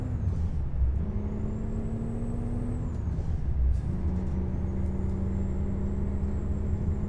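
A Freightliner Classic XL with a Detroit Diesel engine in American Truck Simulator revs up twice, the low engine drone climbing in pitch and holding steady over a constant rumble, close and fairly loud with no talk.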